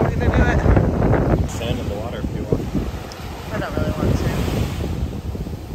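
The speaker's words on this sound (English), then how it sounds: "It's windy" Strong wind buffeting the microphone on a Jamaican beach at night, with surf rolling in beneath, a loud, gusty roar rising and falling while people talk over it.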